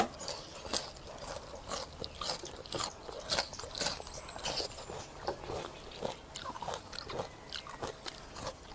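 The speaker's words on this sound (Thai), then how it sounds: "กินหน่อไม้ฝรั่งค่ะ" Crisp bites and crunching on asparagus, eaten alongside Thai fermented-fish khanom jeen with blanched and fresh vegetables, come as a steady series of close, sharp crunches with wet chewing between them. No one talks.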